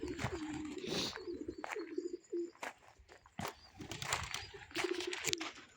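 Racing pigeons coo in soft, throaty repeated phrases, close by, mixed with scattered rustles, knocks and brief wing flaps from the loft.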